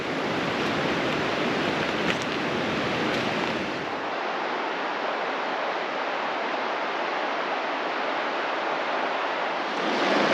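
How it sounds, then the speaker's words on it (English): Steady broadband rush of a gentle river at a backcountry crossing in New Zealand, continuous and fairly close, with a deeper low rumble easing off after the first few seconds; no voices. "So just at the river crossing, it's a pretty gentle trickle now."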